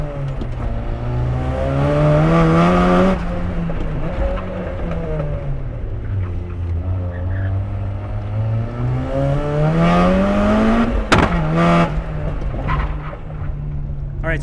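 A backyard-built Miata race car making over 400 horsepower, on a warm-up lap at Adams Motorsports Park, with its engine droning and rising and falling in pitch through shifts, heard steadily from close by.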